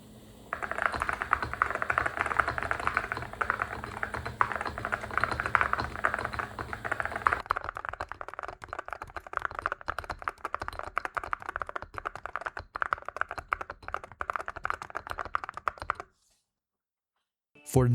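Typing on custom-built mechanical keyboards such as a Zoom TKL Dyna with an aluminum case, case foam and tape mod: dense, continuous keystroke clatter at close range for about sixteen seconds, a shift in tone midway, then silence.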